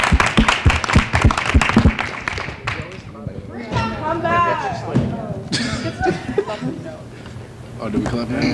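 Campus council members break into a short burst of scattered hand clapping after a confirmation vote, followed by people talking and chuckling in a meeting room.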